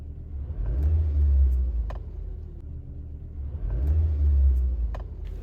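A Toyota Camry engine with a ticking fault revs in two swells under acceleration, a loud low rumble rising and falling with faint sharper ticks over the steady running.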